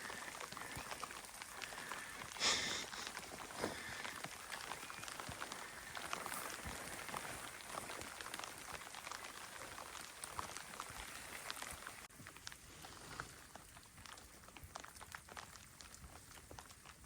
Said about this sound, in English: it's been raining for 6 days